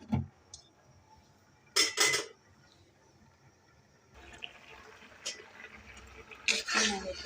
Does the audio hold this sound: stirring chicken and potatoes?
yes